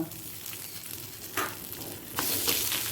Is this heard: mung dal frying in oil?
yes